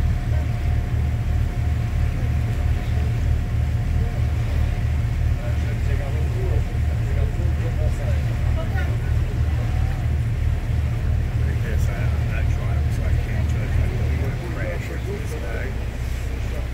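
An open tour boat cruises near the Newport, Rhode Island shoreline, its engine holding a steady low drone with a rhythmic throb. Wind and water noise run underneath the whole time.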